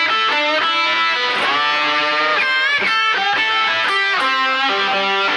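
A lightly driven electric guitar plays a busy passage in A from the solo, with string bends and rapid picked notes running continuously, loud and close with no talking.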